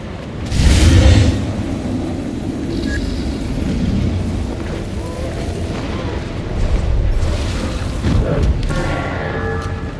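Cannon fire in the fantasy game Guild Wars 2, heavy booming blasts with one strong hit early and further rolling booms later over a dull battle rumble, with faint voices underneath.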